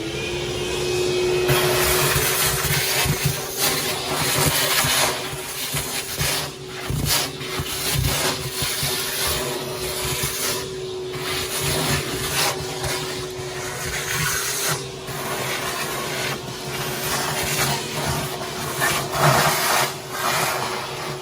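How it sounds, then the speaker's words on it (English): A vacuum cleaner runs steadily inside a semi truck tire during a flat repair in a shop, its constant whine rising and dipping as the nozzle scrapes and rubs around the casing, close and loud without speech. "we're gotta go find a vacuum cleaner"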